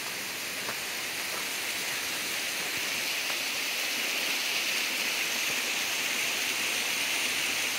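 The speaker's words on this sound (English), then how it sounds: "But here we have a waterfall" A constant broad rushing roar of falling water fills the clip steadily, with no pauses or voices.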